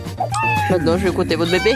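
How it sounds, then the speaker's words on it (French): A cat meows in overlapping drawn-out cries while someone speaks French over it, fairly close and steady. "Pourquoi elle miaule?"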